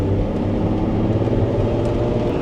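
Ferrari Testarossa engine giving a deep, low rumbling note rather than a high scream, steady and close for a couple of seconds with no talk.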